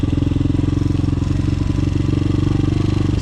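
A Chinese DB14 pit bike dirt bike putters along steadily nearby, its small engine thumping in a fast even rhythm with a constant low drone, no speech over it.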